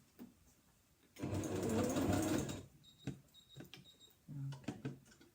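A sewing machine runs in one close burst of about a second and a half, stitching the ends of a fabric box bag with a continuous zip, followed by quieter clicks, a short whir and faint handling noises.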